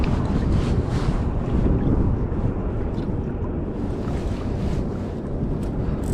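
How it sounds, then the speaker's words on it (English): A ferry runs by on the James River, heard from a kayak as a steady low rumble of engine and water. Gusting wind buffets the microphone throughout. "when the ferry's running by"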